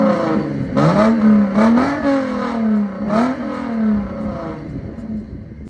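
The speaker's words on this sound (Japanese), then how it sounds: "マフラーこだわってるそうなので、あの、これ出てくときにちょっとエンジン音を聞いてもらいたいと思います" A Lexus IS with wide over-fenders and a custom exhaust revs repeatedly at a car meet: several rising blips of a deep engine note, loud and close, climbing and falling before settling to a lower drone.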